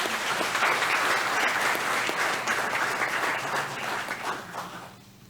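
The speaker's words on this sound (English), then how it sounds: "So if we can give them a round of applause." A crowd at a school board meeting applauds with dense, steady clapping that holds for several seconds, then thins and fades out at the end.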